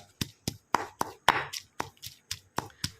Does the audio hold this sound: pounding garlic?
yes